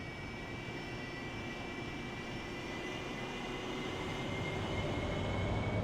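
In a flight simulator game, an aircraft powers up to taxi, its engine producing a steady, even drone with a faint high whine that grows slowly louder, with no voices over it.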